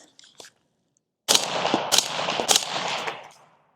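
A rifle with a 13.9-inch barrel fires three sharp, loud shots in fairly quick succession outdoors, each cracking then trailing off into a short rumbling echo, after a faint click or two in near silence.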